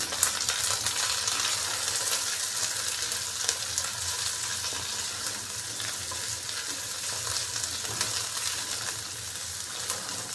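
Chopped carrot, capsicum and cabbage tossed and mixed in a hot pan for chilli garlic noodles, a continuous dense sizzle with light scraping as the vegetables are stirred, close and steady.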